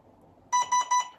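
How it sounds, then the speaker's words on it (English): Three short, evenly spaced electronic beeps sound close up after a faint background hum, as a 3-cell 11.1-volt battery is connected to a gel blaster. "3 beeps means it detects 3 cells inside the battery."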